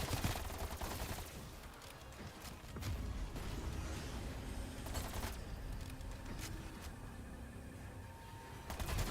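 Sustained gunfire in Call of Duty Black Ops Cold War Zombies, dense overlapping bursts of shots and impacts rattling steadily throughout, fairly distant and busy with no clear talk.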